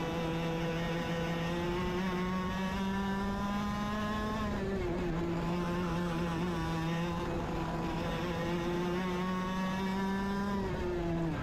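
A 100cc racing kart engine on a final race lap, a loud, steady high-pitched buzzing drone recorded on board, pitch rising and dipping slightly with a brief drop before climbing again near the end.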